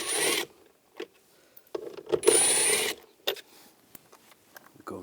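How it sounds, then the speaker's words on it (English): A 7mm socket backs screws out of an interior panel on a 2010-2017 Chevrolet Equinox, giving short scraping and ratcheting bursts separated by quiet gaps, fairly close. "Take these screws out."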